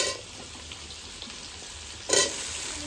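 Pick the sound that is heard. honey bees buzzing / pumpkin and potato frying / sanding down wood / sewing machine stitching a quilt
pumpkin and potato frying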